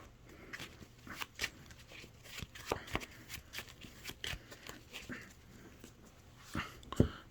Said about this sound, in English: And then we'll shuffle, shuffle,